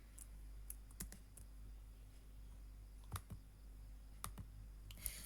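Keys clatter on a computer keyboard as a folder name is typed, a sparse run of quiet, close clicks in short bursts over a low steady hum.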